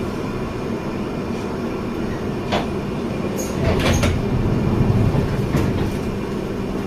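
A 1973 stock Piccadilly line London Underground train runs with a steady rumble and rattling, heard from inside the carriage. The noise grows louder midway, with occasional high metallic squeals.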